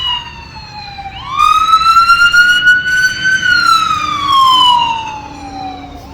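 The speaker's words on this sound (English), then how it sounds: "I'm just gonna wait for this loud siren to pass by me" A loud wailing siren sweeps up and down in pitch as an emergency vehicle passes close by, its tone rising then falling away.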